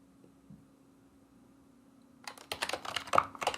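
Fast typing on a computer keyboard starts after a quiet stretch, with close, crisp clattering keystrokes in quick irregular bursts.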